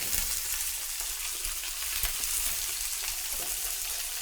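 Fish stock with brown roux being mixed into it for a velouté, a steady soft bubbling and sizzling hiss running evenly throughout, with no talking.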